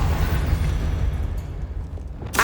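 A booming fiery explosion from the Confringo spell in Hogwarts Legacy roars loud and sustained, ending in a sharp bright burst.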